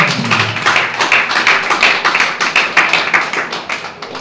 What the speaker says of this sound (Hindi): जोर से ताली मार के परमेश्वर की महिमा।